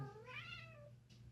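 A female cat in heat gives one drawn-out, rising then falling meow indoors, clear but fairly quiet against a low steady background hum.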